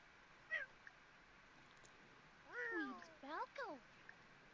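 A cat in The Sims 4 video game gives a few scratchy, high-pitched meows, one short call followed by a cluster of falling cries, faint over a quiet game background.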